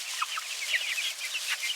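Chickens in a backyard flock cluck and chatter nearby in quick, short bursts, several birds calling over each other with no talking.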